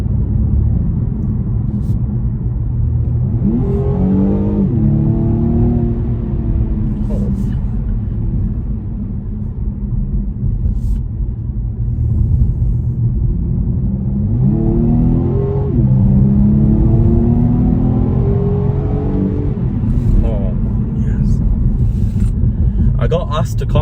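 A 2021 BMW M135i engine pulls hard through two rising acceleration runs, each climbing in pitch before an upshift, loud and close with steady road roar beneath.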